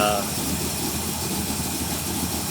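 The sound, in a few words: 305 engine running after a cold start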